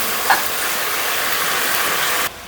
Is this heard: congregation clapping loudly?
no